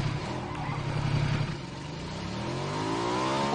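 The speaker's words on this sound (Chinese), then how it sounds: "我就开着摩托车乱逛呗" A motorcycle engine in the video game PUBG revs steadily, its pitch rising and falling with a clattering mechanical whir, close and fairly loud throughout.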